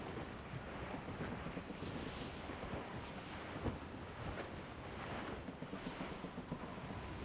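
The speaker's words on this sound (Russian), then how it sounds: "Ветер крепчает, да." Wind and sea waves wash steadily in Assassin's Creed Rogue, a soft continuous roar with gentle surges and splashes, no voices.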